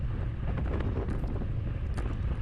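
Headwind buffets a cyclist during a Cat 4/5 practice criterium race, a loud, continuous low rumble of wind against the microphone with no voices.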